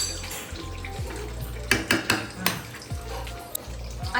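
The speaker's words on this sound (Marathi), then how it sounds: "आता हे तांदूळ मिक्स करूया." Washed rice being stirred into boiling chicken biryani masala in a pot, metal spoon knocking and scraping against the pot in a few sharp clinks over a low bubbling background, no talking.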